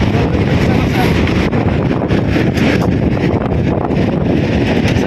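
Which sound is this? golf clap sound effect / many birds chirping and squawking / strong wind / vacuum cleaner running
strong wind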